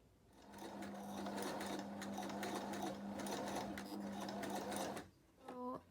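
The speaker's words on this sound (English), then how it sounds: "I'm going to sew it." A sewing machine stitches the inner pocket fabric of a cloth face mask, a steady fast mechanical whir of rapid needle strokes for about five seconds that stops abruptly, followed by a brief higher whine.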